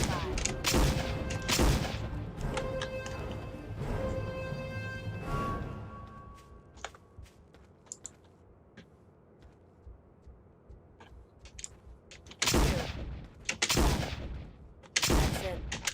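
Gunshots in the Trespasser game. Loud shots and a clattering burst come first, then sparse, sharp single shots spaced out in a quieter stretch, and a final cluster of heavy blasts.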